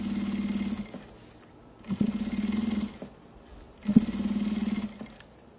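A sewing machine topstitching a mate bag, running in three steady bursts of about a second each with short pauses between, close and clear with a buzzing, rapid needle rhythm.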